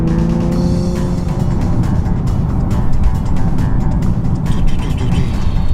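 A Nissan 370Z 50th Anniversary Edition drives through tight turns, its engine a steady, muffled drone heard from inside the cabin, rising and falling with brief faint tire noise and no talking.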